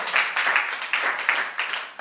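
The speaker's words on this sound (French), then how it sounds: "Applaudissements pour Fusco, mesdames et messieurs." Applause from an audience on a French-language television show greeting a guest, a steady wash of many hands clapping with surging bursts, fairly close and continuous.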